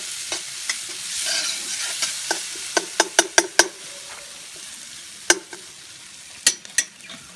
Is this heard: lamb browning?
yes